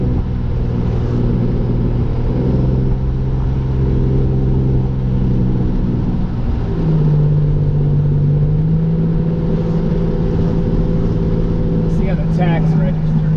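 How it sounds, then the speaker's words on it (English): Engine of a 1987 Buick Regal T turbo climbing a hill, a loud continuous in-cabin drone that rises in pitch as the turbo spools, with faint chirps near the end. "I missed that turbo spool."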